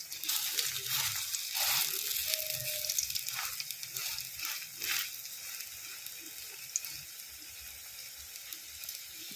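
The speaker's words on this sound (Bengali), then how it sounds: "গ্যাসটাকে মিডিয়ামে রেখে এটাকে ভেজে দিতে হবে।" Lentil fritters (masoor dal bara) frying in oil over a medium gas flame, a soft, fairly faint sizzle with occasional crackles and brief bursts, quieter toward the end.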